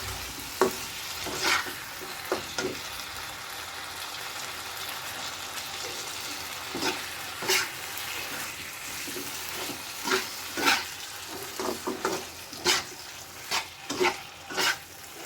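Chicken liver and potato frying in spiced masala in a pan, a soft steady sizzle under repeated clattering stirs and scrapes of a utensil, close and moderately quiet.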